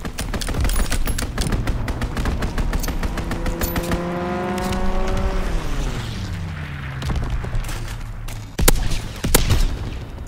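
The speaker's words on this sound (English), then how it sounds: "Enemy strafing run inbound." Enemy aircraft strafing run in the Call of Duty: WWII video game: dense bursts of machine-gun fire crackle throughout as a plane engine roars past with a falling pitch, followed by heavy booms near the end.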